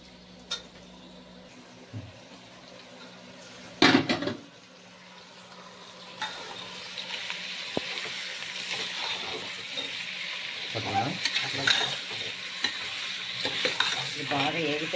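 Mutton pieces drop into hot oil in a pan and sizzle loudly, a spoon scraping and stirring them in close irregular strokes, the frying hiss building and holding steady.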